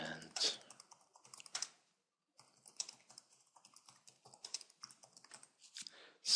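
Computer keyboard typing in short clicky bursts, with a brief pause partway through, fairly close and moderately loud.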